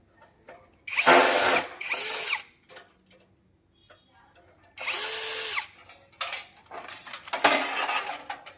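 A power screwdriver backing two screws out of a gas geyser thermostat: four loud, close whirring bursts of about a second each, separated by quiet pauses, then faint clinks and handling noises.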